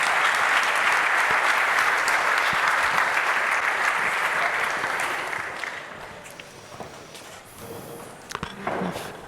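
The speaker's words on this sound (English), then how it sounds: "So please join me in a round of applause for all of our amazing presenters." Conference audience giving a round of applause for presenters, full steady clapping for about five seconds that tapers off into scattered claps and room noise.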